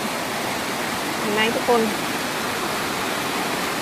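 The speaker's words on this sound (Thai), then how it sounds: "ลำธารนี้มันไหลยาวไปจากมาตั้งแต่เขานะ" A mountain stream runs in a steady rushing hiss, and a voice speaks briefly over the constant flow of water.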